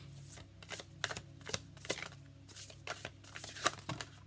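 Tarot cards are shuffled by hand in a quiet room, a series of soft riffling, flicking bursts in a loose irregular rhythm, faint and close.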